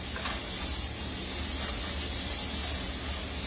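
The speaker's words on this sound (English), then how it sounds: "the juice has cooked out some and it's starting to sear now" Beef tips sear in a hot pan, giving a loud, steady, dense hiss and sizzle that holds unbroken and close-up the whole time with no voices.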